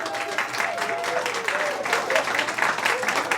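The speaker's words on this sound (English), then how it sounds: "Another round of applause." Applause from an audience at the dedication of a school library at Carver Academy, steady clapping throughout with a voice speaking faintly beneath it.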